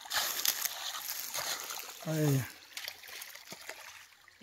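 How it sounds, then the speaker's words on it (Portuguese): Spring water trickles and splashes as it runs over a tree root, a continuous close wet babbling with people talking over it. "Passando por cima da raiz ali a água."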